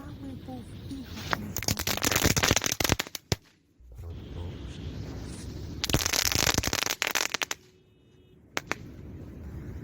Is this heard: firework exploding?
yes